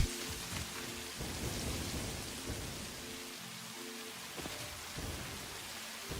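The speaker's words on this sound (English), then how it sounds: "This rain is quite loud." Heavy rain and rolling thunder in the game Satisfactory, a loud hissing downpour with low rumbles swelling and fading throughout, no voices.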